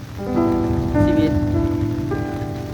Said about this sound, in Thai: ฝนตกอยู่ตลอดเลยครับ